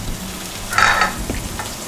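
Mushrooms fry in a pan, a brief close sizzle with a stirring scrape that swells and then settles back to a low crackle.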